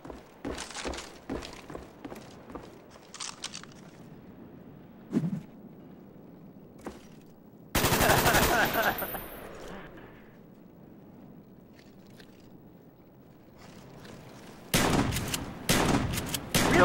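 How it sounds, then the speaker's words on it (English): Bursts of gunfire in the shooter game Combat Training, with scattered shots and impacts followed by louder broadband volleys, the loudest near the end, with some voice nearby. "I'm just shooting randomly things."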